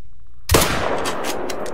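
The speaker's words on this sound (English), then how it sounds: "we're gonna bloody shoot this turkey" A single sharp 10mm gunshot fired at a turkey in theHunter: Call of the Wild, loud and sudden after near silence, followed by a reverberating tail with a few faint echoing after-pulses.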